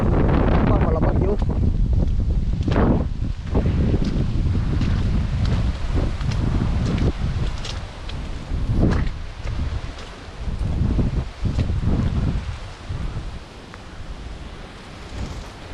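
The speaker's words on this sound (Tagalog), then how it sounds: "grabe yung hangin" Strong wind buffeting the microphone in heavy roaring gusts that swell and fade, with rustling foliage underneath.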